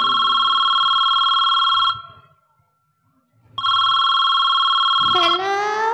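A telephone ringback tone after dialing a wrong number: two loud, steady electronic rings separated by a silent gap, then a brief clatter as the call connects.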